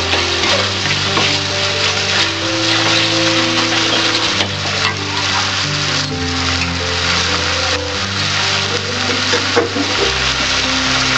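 A bay leaf sizzles and fries in hot oil in a pressure cooker while making ghugni, giving a loud, steady crackling hiss with stirring scrapes and a low background hum, and no talking.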